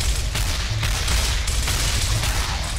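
Pistol fire in Gears of War, loud, rapid shots at close range layered over constant battle noise, with a cluster of sharp cracks near the start and more spaced out through the rest.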